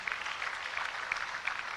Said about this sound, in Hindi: स्वामी विवेकानंद के लिए जोरदार